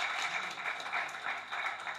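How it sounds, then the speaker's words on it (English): An audience applauds at a university business school plenary session in Lagos, a brief, steady wash of many hands clapping at moderate distance. "Give them another round of applause."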